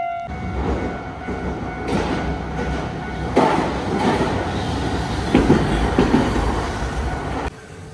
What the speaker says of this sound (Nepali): अगाडिबाट ट्रेन पनि आइरहेको रहेछ क्या यहाँनिर